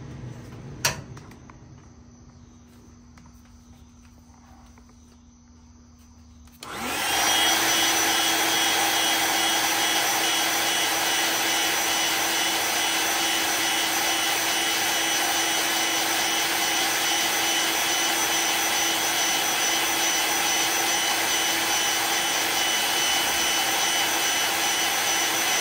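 Heat gun switched on to cure paint on a fishing lure, a sudden loud steady blowing whine that starts after a few quiet seconds and runs unbroken to the end.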